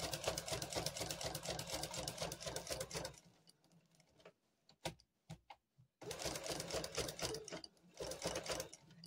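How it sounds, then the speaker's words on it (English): Sewing machine stitching a quilt with rapid, even needle clatter for about three seconds, a pause with a few faint clicks and handling sounds, then the fast stitching resumes, close and alone. "I sew all the way to the end and then back to where you need to turn off."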